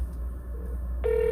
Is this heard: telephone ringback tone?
yes